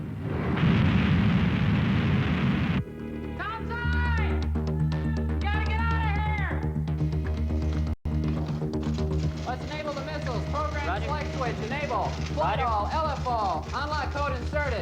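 Missiles strike and explode in a documentary scene: a loud roaring blast rushes in at the start, followed by a sharp crack midway, with music and voices playing over the rumble.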